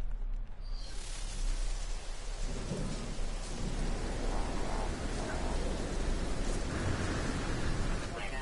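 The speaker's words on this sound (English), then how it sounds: "has the storm finished yet?" Thunderstorm in a virtual world: steady rain hissing and pattering on surfaces with low rumbles of thunder rolling underneath, constant and fairly close throughout.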